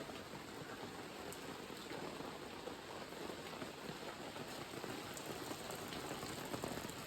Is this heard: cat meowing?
no